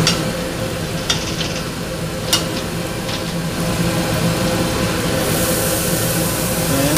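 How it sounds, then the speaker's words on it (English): Butter sizzles steadily in a saucepan in a ship's galley, a constant loud frying hiss under engine rumble, with a few faint clicks and knocks. "In a saucepan, add butter."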